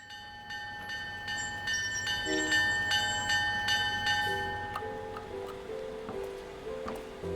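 A passing train is heard as a steady rhythmic clacking with sustained ringing, bell-like tones that shift in pitch midway, at a moderate, even level with no voices.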